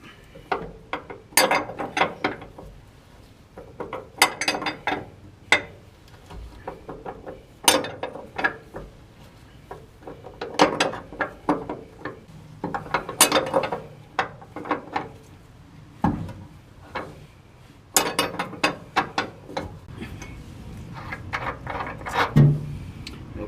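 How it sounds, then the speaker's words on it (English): A ratchet wrench loosens a 24 mm leaf spring nut on a Chevy Silverado, close and clear, in repeated bursts of sharp rapid clicking separated by brief pauses and clanks. "now I'm going to loosen that bolt right here, that nut right there"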